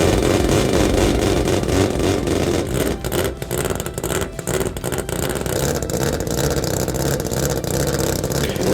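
A tuned Toyota Supra engine revs hard, a loud sustained mid-pitched roar that dips briefly in the middle before climbing and holding again, close and continuous.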